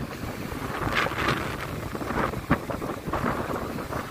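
Strong wind roars over a rough, heaving sea at Cap de l'Eau, Morocco, with continuous buffeting gusts on the microphone and crashing surf surges, one sharp thud near the middle, no voices.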